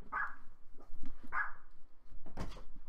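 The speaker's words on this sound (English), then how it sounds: "A bunch of dogs bark in your ear." Dogs bark loudly close by in the early morning, with several separate barks spread across a few seconds and a burst of clattering noise near the end.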